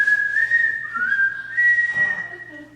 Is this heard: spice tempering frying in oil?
no